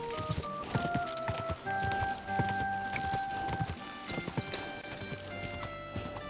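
A horse's hooves clip-clop steadily in the video game Kingdom Come Deliverance II, with a brisk even rhythm close up, a whinny among them and sustained game music tones underneath.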